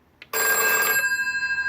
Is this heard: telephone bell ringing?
yes